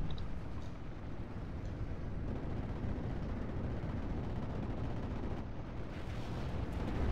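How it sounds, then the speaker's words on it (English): Artillery booms in a video game battle blend into a continuous heavy rumble of distant blasts and gunfire that stays loud and dense throughout, with no clear voices. "Artillery, fire on that."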